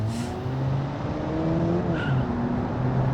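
A car in the Automation driving game brakes hard, with a steady engine drone under a short tire squeal partway through, fairly loud and without voices.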